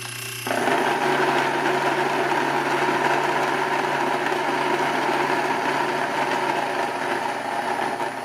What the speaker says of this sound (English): Now I'm going to go ahead and crank it until I can hear the stones grinding together.